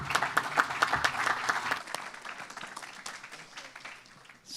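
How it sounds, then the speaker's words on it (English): Conference audience at a European biosolids and biosources event applauding a speaker, steady dense clapping for a couple of seconds that thins and fades, with little talk. "Although you are from Ajax, I still give you an applause."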